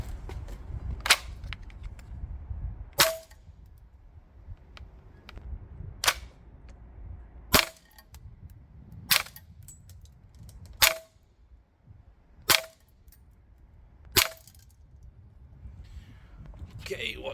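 Umarex UMP 45 DX gas blowback airsoft gun firing 0.25 g BBs on green gas at a range: about nine sharp single shots with clacking blowback, spaced one to two seconds apart, fairly loud, with quiet background noise between.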